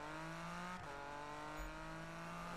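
Car drifting in Need for Speed 2015: a steady, faint engine drone with layered harmonic whine that dips briefly mid-slide, then holds on, with a low thump near the end.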